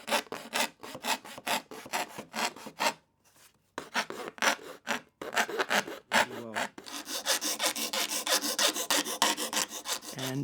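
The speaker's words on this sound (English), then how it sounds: "just to get a feel of what it's like to file square" Hand file rasping square across a wooden violin-making part, a steady rhythm of close, loud strokes with a brief pause, then faster continuous filing.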